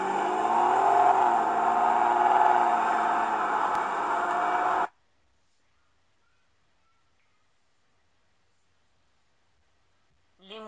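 A car engine drones and revs with a rising and falling whine for about five seconds in a children's cartoon about car types, then cuts off abruptly into silence.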